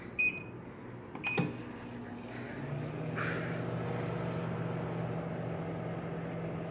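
A Sharp Carousel microwave oven with an egg inside gives a few sharp beeps and a clunk, then settles into a steady low hum that keeps running.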